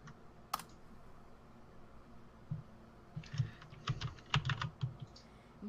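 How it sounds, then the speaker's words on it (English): Rapid clicking of computer keyboard keys, a few sparse taps and then a denser burst of typing near the end, close and fairly quiet over a low steady background hum. "Sorry, I'm typing this."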